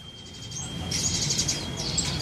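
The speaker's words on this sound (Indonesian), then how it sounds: "Ini ada burung perenjak atas ya." A perenjak atas (prinia) songbird sings among caged birds in a Jakarta bird shop: short bright chirps and trills in two bursts over a faint background hum, fairly close.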